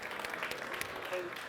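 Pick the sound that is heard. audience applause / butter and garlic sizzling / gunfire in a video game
audience applause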